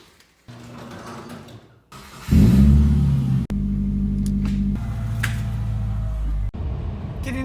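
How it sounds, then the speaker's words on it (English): A 2007 Subaru Impreza rolls along with a low, steady road-and-tire rumble that swells as it speeds up, interrupted by a few sharp knocks. "Getting the car up to speed and letting the clutch in, I can only hear the road on the tires"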